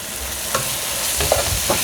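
Spinach and sauce frying in a pot for Nigerian efo riro, a steady close sizzle with a few soft stirring scrapes of a utensil.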